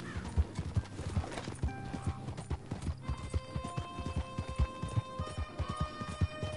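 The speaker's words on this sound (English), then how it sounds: "Orale, this horse is really fast." Rapid hoofbeats of a galloping horse in the video game Red Dead Online pound in a steady, close rhythm, with a brief whinny early on and game music tones layered behind.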